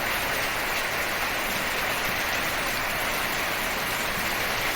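Steady rain pours down at night, a dense, even wash of falling water that fills the whole stretch without pause, with no voices heard.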